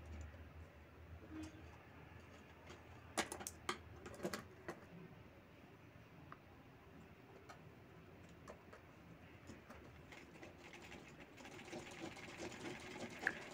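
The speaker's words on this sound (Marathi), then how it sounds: "अगदी साईडला काठावर शिलाई घ्यायची आहे." A sewing machine stitches along the edge of a handbag in short bursts of rapid, close mechanical clatter, with quieter pauses between runs and no talk.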